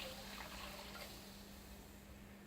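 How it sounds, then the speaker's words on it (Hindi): Strained tamarind water poured into a cooking pan, giving a soft, steady wash of liquid noise that stays at an even level and fades slightly toward the end. "अब मैं इस पैन में दोबारा से ये इमली वाला पानी डाल दूंगी जो मैंने छान लिया था"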